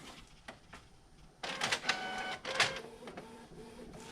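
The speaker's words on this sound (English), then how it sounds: "it's going to start printing this bad boy here in just a second" A printer runs a shipping label, with a few soft clicks before a loud, close mechanical whir starts, pauses briefly, resumes with a second burst, and then fades to quieter feeding sounds, with no talking.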